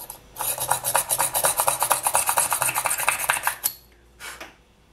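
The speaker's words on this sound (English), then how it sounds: "We're going to drill it right here next to the stem." Rapid, scratchy rasping strokes of a small hand push drill boring into polymer clay, close up, stopping abruptly, then one brief final scrape.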